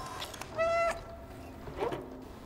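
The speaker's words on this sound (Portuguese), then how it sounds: "O gato vai miar e assim vai atrapalhar ele." A cat meows once, clear and close, in the video game Stray, with a quieter second call near the end over a low background hum.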